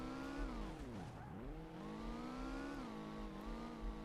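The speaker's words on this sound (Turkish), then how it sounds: "Abi arabanın hızlanması muhteşem onu söyleyeyim." A car in the video game Car Simulator 2 accelerates hard, its engine pitch dipping and then climbing again in a smooth sustained whine with strong harmonics. The engine runs loud and steady throughout, with no voices.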